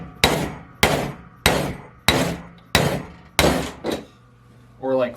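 Hammer knocking an old bushing out of a 727 transmission front drum during a rebuild, six sharp, loud metallic blows at an even pace, close by, followed by a short voice.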